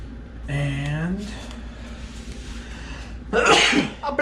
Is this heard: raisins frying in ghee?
no